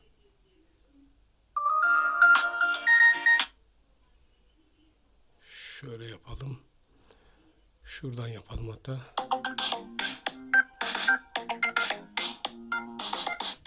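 An Oukitel K16 phone's ringtone plays a short melodic tune from its small loudspeaker, then a person talks before the ringtone returns in choppy bursts.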